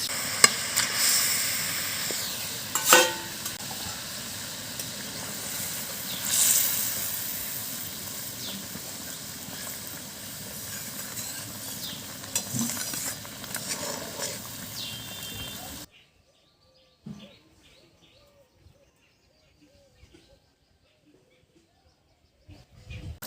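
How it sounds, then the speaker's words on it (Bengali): Fried pomfret pieces go into a hot pan of oil with chili powder and slit green chilies, giving a steady, bright sizzling hiss for a while before the sound drops to near silence. "এরপর ভাজা মাছগুলো দিয়ে দেবো।"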